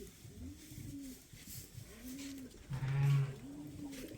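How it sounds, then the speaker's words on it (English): Pigeons on a sheep farm coo in soft, rounded, repeated calls, about four evenly spaced coos, fairly close but quiet, with a louder rustle near the end. "we got the pigeons watching the whole process, cooing."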